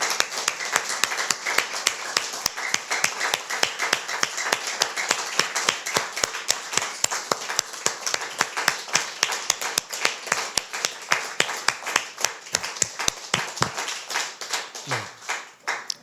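Rhythmic, steady clapping from a congregation during Sunday worship, even beats repeating throughout sixteen seconds over a bright crowd wash, tapering at the close.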